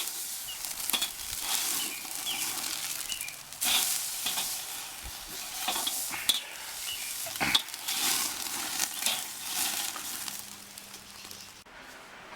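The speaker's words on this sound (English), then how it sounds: "now we're going to go ahead and sear our steaks here" Ribeye steaks searing in a hot pan, a continuous bright sizzle with occasional pops, clinks and shifting of the meat, close and moderately loud, with no talking.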